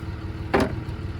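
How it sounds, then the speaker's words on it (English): A short blast of brake cleaner spray, used in place of compressed air, blows dirt and grime from the spark plug holes of an old military ambulance, a single brief hiss over the steady rumble of a nearby truck engine running. "so I'm using that brake cleaner as kind of like compressed air to get all the dirt and grime away from these plug holes"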